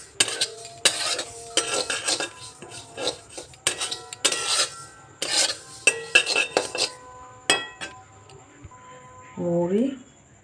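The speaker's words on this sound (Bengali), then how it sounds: "জিরা ভাজছি" Cumin seeds dry roasting in a pan, with repeated scraping and stirring strokes of a utensil against the metal in bursts, under occasional talk and a brief tonal voice near the end.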